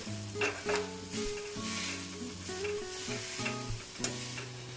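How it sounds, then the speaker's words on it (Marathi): Raw, unchopped fenugreek leaves hit a hot pan and get stirred, giving a continuous close sizzle with rhythmic scraping and tossing strokes, moderately loud with no voices. "त्यामध्ये आता मी कच्ची मेथीची भाजी घालून घेते"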